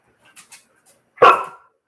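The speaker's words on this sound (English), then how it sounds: "why are you barking at me?" A dog lets out one sharp, loud bark close by after a few faint clinks, with quiet indoors around it.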